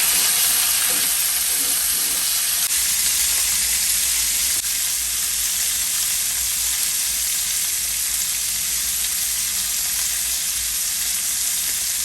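Chicken thighs seasoned with salt and pepper browning in a hot pan, a steady loud sizzle and frying hiss running unbroken throughout with no talking.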